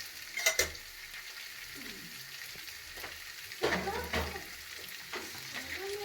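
Potatoes and peas sautéed with garam masala, chili powder and a little sugar in a pan, a soft background sizzle broken by a few sharp scraping stirs of a spatula against the pan, quiet overall and without talk.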